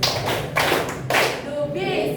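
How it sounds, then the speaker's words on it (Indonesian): Three sharp hand claps in a steady, evenly spaced rhythm during a classroom lesson, fairly close and loud, followed by a voice starting to speak as the last clap fades. "Caranya gini, tepuk 3 kali, 1, 2, 3."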